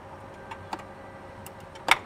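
Motorcycle gear lever clicking through the gears while the lever oil seal and cover are serviced, a few faint, sparse clicks with one sharper click near the end, close by and without talk.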